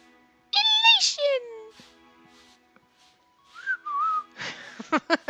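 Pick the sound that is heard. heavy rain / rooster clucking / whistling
whistling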